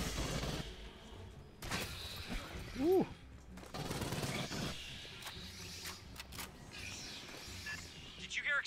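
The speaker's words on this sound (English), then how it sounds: "Did you hear explosions just now?" Explosions and gunfire from the Aliens: Fireteam Elite video game, with bursts of blasts and rapid shots scattered among game sounds and a brief whoop from a player, moderately loud and intermittent.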